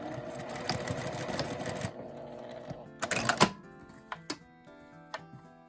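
A sewing machine stitches a makeup bag, running in a fast steady whir for a couple of seconds, then pausing before a second short burst, followed by a few scattered clicks and handling taps, close and moderately loud.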